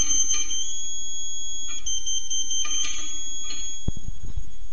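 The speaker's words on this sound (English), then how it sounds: "Be careful that you always hear the continuous tone." A Surfbeam 2 satellite terminal sounds its steady pointing tone, a continuous high electronic beep that persists throughout at moderate level, with a few brief clicks and a low thump near the end.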